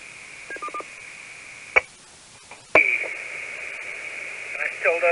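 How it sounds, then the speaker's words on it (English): Tones arrive over an amateur radio link: a short burst of dialing-style beeps, then a steady carrier tone with a few sharp clicks and a noisy hiss, ending in more brief tone chirps. "I hear your CW and tones loud"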